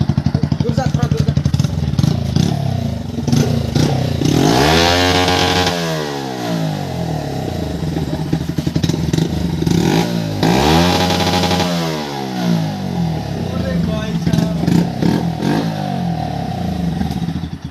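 A Bajaj Pulsar NS125 motorcycle with its exhaust removed revs hard up close, two sharp rising-and-falling blips over a loud raw idle, with a voice talking briefly.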